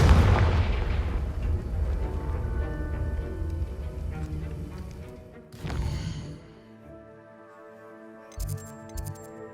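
A Confringo blasting spell explodes in Hogwarts Legacy, a loud booming blast that rumbles and fades over several seconds, followed by a second sharp burst, then quieter game music with a few soft thuds.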